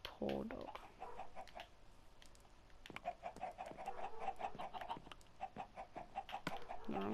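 Chickens in the Minecraft video game cluck over and over in a steady stream of short, repeated game-sound calls throughout, with some overlapping clicks and effects.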